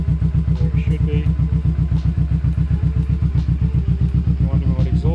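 A warmed-up Kawasaki Vulcan S motorcycle with a Delta-Vic exhaust idles steadily nearby, its low, even thumping pulse continuing without revving throughout.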